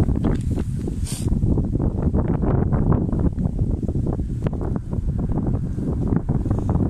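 Strong gusting wind buffets the microphone with continuous low rumbling and thumping, loud and close throughout.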